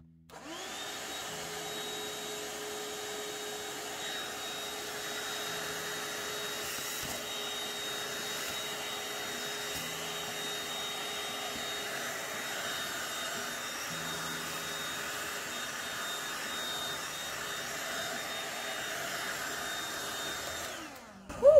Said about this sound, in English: I'm gonna go grab a vacuum.